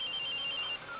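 A pachinko machine in a parlour-style game gives a short electronic tone, a sustained high beep that briefly changes pitch near the end, fairly faint.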